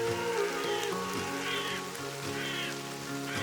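Steady rain patters on surfaces at the Kolorowe Jeziorka colored lakes in Poland, a continuous soft hiss under a background of musical tones, with no talk.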